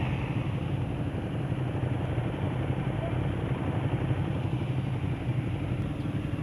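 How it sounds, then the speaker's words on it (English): A 2015 Ducati Hypermotard 821 running without an exhaust drones steadily and continuously throughout the ride, a dense engine roar mixed with wind noise. "This bike kind of sounds like a dirt bike also, without any exhaust on it."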